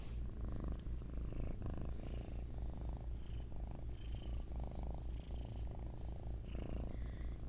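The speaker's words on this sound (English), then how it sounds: "Ignore all the purring and noises that you guys hear" A pet cat purrs close to the microphone, a soft, steady low rumble with gentle rhythmic pulses, continuing alone without any talk.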